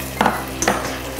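Sour cream is stirred into beef stroganoff in a pan, with two quick scraping strokes of a utensil over a soft, steady sizzle.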